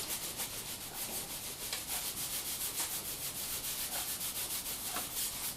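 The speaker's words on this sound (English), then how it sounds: "I will just rub in some spoon oil into the surface of the cutting board" Spoon oil being rubbed by hand into a wooden cutting board, a continuous soft dry rubbing and scuffing texture at close range with faint rhythmic strokes, no voices.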